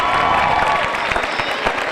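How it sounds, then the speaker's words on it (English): A crowd at a high school commencement applauds steadily, a dense wash of clapping with some cheering, heard throughout a short stretch at even loudness. "Let's give him a big round of applause."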